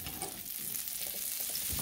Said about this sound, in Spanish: a mover un poquito la cacerola